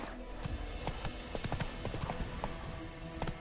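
Roach, a horse in The Witcher 3, clip-clops along at a steady walking rhythm, hooves striking clearly and close in a game scene, with a faint background hum.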